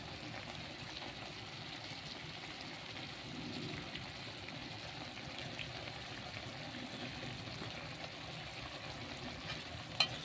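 Kochur loti (taro stolons) cooked with shrimp and lemon juice are stirred in a pan over a soft, continuous sizzle, with faint scraping close by and no talking.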